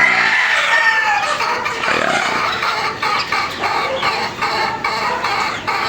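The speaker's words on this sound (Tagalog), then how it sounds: "umaga dito tayo kagad sa ating munting manukan mga idol para kumustahin naman yung mga alaga natin" Chickens and a rooster in a small backyard chicken coop in the morning: a nearby rooster crows while hens cluck and squawk repeatedly, loud and close.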